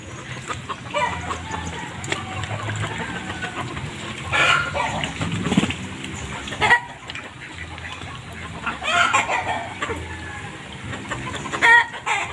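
Chickens clucking around a rural hut in rainy weather, with a rooster crowing a few times, moderately close, over a steady background hiss.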